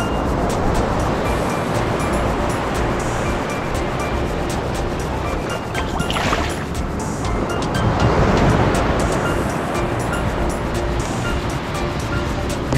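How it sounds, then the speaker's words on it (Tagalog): Strong ocean surf breaks and washes continuously along the shore at a crabbing spot in Dunedin, New Zealand, loud and close with steady wind rumble and a surge swelling around the middle. "Malakas ang alon."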